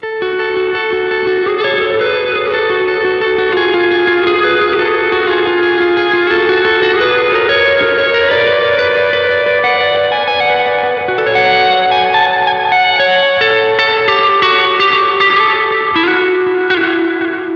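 An electric guitar plays a sustained riff through a digital reverb pedal on its hall setting, with a lush, spacious reverb tail, notes blooming and lingering like in a large hall.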